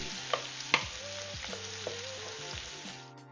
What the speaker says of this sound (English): I'm just sauteing my onions with a little bit of olive oil and some butter